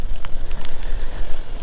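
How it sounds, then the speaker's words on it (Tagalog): Steady rain hisses over wind noise while riding a Honda Click 125i v3 scooter on a wet road, with a few sharper drop hits on the surface and no voices. "Parang wala nang planong tumigil ang ulan na to."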